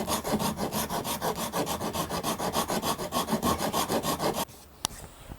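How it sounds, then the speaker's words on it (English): Shinto rasp shaving wood off the volute of an electric guitar neck, a close rhythmic series of rough scraping strokes, about twenty in quick succession, then stopping with a single light knock. "let's get the shinto and take some of the thickness off this volute"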